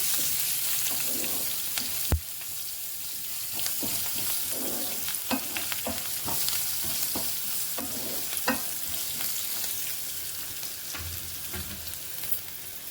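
Cluster beans with garlic chilli powder frying in a pan, a constant close sizzle throughout broken by scraping stirs of a spatula at irregular intervals, with no voices.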